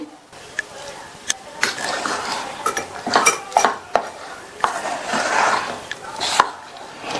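Ragi mixed with jaggery solution in a pot, with repeated scraping and knocking of a spoon against the metal sides in an irregular rhythm. A voice talks quietly underneath.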